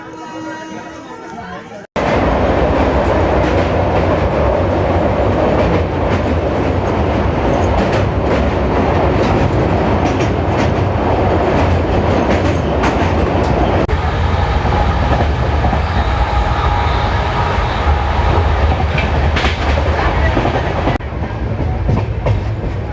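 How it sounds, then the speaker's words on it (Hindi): Ashram Express passenger train running from Ahmedabad toward Delhi, heard from on board as a loud, continuous rumble with rhythmic clickety-clack of wheels on rail joints, under faint passenger chatter. "तो भाई देख सकते हैं हमारी ट्रेन बिल्कुल राइट टाइम खुली है।"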